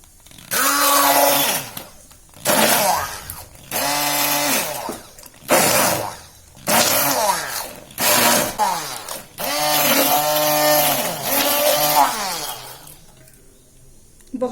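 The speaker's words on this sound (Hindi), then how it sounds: "ब्लेंडर से थोड़ा सा ब्लेंड कर लेंगे।" A hand blender pulses through cooked mustard greens for sarson ka saag in several loud, whirring bursts with short pauses between them, the motor pitch rising and dropping within each burst, ending in quiet.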